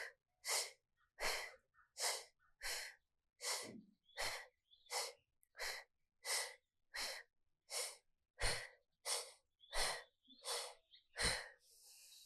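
Slow, steady breathing during a held yoga pose, about fifteen audible breaths in a regular rhythm, each a soft airy rush close to the microphone in an otherwise quiet room.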